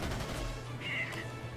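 Aircraft guns firing in World of Warplanes from a P-40 fighter, a dense rapid burst of shots sounding throughout under a steady low engine drone.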